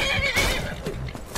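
A horse neighs loudly and close in the Skyrim video game, a bright whinny running the full moment with hoof clip-clop and game ambience beneath.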